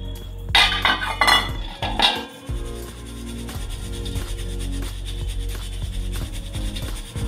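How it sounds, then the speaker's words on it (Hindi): Dry poha, flattened rice, rubbed and shaken through a metal sieve in a home kitchen, giving steady scratchy rasping with light metallic clinks, louder bursts at the start and then a continuous close shuffle. "मैं पहले इसको थोड़ा छान लूँगी"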